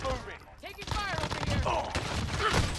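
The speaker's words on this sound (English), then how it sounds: "I'm getting shot from behind" A burst of gunfire in the Warzone video game, with clustered shots and impacts under game sound effects, while voices talk over the action.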